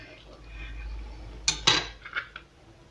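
Cutlery cuts through a crispy homemade taco made with a runny batter on a plate, a low hum first, then a few sharp clinks and scrapes of metal on the dish, close and brief.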